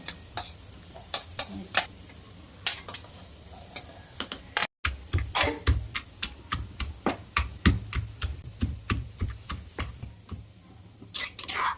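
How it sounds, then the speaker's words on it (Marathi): Cooked ridge gourd is pounded for chutney, making a long run of sharp, evenly spaced knocks at a steady, brisk rhythm, close and fairly crisp over a quiet background. "हे ना आपण दोडका कुटून घेणार आहे"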